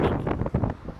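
Gusty wind buffets the microphone while an aircraft comes in to land in windy conditions, a loud, rumbling roar that surges and dips over about a second.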